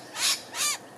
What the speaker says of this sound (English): The little groaning is the noisy miner warning other birds and possibly me that there is a predator crawling around on the ground.